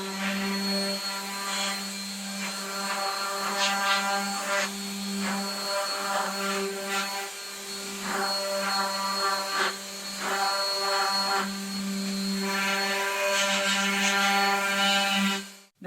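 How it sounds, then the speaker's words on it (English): A power sander smooths cut wooden pieces for a laptop stand, giving a loud, steady, humming whine that runs continuously for about sixteen seconds with slight flutters in intensity and no talking. "I'm just going to sand these pieces a little bit, smooth them up"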